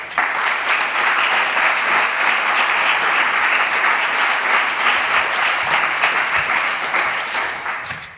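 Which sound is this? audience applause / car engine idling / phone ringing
audience applause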